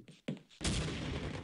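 Grenade explosions in the video game Half-Life: two short sharp bangs come first, followed by a sustained, roaring burst of blast noise that fills the rest of the moment.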